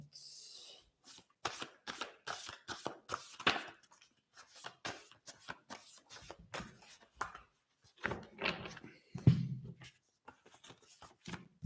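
Cards being shuffled in a quick series of dry riffling, flicking bursts with short pauses between them, close and fairly quiet, with no talking over it.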